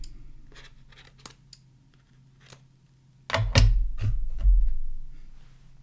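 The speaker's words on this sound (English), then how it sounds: "cut the excess off." Scissors trim excess card material from a sparkly gold-tinsel Christmas card, with a few sharp snips and handling taps followed by a louder, crunchy run of close cuts and rustling; no talk.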